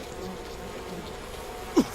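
A steady swarm of bees hums throughout a moment of the video game We Happy Few, a close, even buzz with one brief louder blip near the end and no talk over it.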